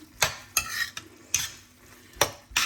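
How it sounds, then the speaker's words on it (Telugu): A spoon stirs prawn curry in a cooking pan, giving a few sharp scraping strokes at irregular intervals over a faint sizzle, close by. "కర్రీ మొత్తము సో ఇలా మిక్స్ చేసుకుని"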